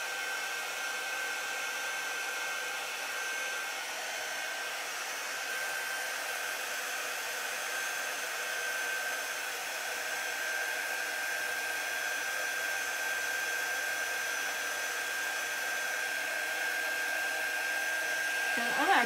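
A steady, even dryer whir drones on alone at moderate loudness, gentler than a hair dryer, with a faint whine on top and no break in the sound.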